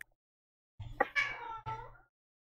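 A cat meows a few times close by, a drawn-out cry broken into two or three calls over about a second, with a quiet room around it.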